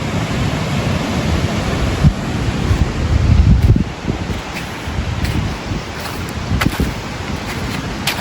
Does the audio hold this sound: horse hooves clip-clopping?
no